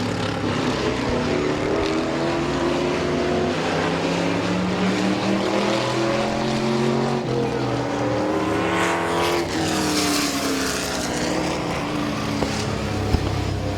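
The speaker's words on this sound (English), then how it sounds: "As Gruhl getting a little loose off of turn number 4, spins it down the front straightaway." Race cars circle the oval at Midvale Speedway, engines droning loudly and continuously with rising and falling pitch as several cars pass close by, tires briefly squealing near the end.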